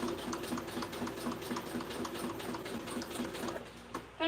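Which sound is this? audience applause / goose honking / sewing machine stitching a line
sewing machine stitching a line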